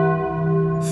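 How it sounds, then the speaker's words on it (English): A cathedral bell tolls, its steady harmonic ring sustained and loud throughout, with a brief bright hiss creeping in near the end. "The toll of the cathedral bell."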